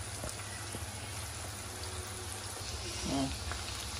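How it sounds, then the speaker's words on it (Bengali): Meat and potatoes frying together in hot oil give a steady, soft sizzle with scattered crackling pops, close by and fairly quiet, with brief talk over it. "আলু মাংস একত্রেই ভাজবো।"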